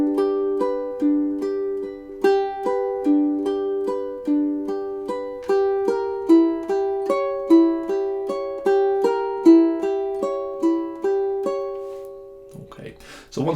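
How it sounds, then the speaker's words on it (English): Measures 11 and 12 of Bach's Prelude in C on a classical-style ukulele, rolling arpeggios in a steady even pulse, close-miked, ending with a brief handling noise. "On to 11 and 12 now, so they should sound like this."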